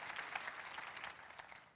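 Church congregation applauding during a French sermon, a steady wash of many hands clapping at moderate distance for the whole moment, fairly even in level with no voices standing out.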